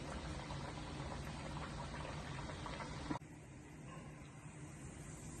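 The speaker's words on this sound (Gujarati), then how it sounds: "આથી બધી તળી લેવાની છે. ગેસની ફ્લેમ સ્લો મૂકવાની છે," Eggless khajuri fry in oil over a low gas flame with a steady, soft bubbling sizzle that drops suddenly to a quieter simmer partway through.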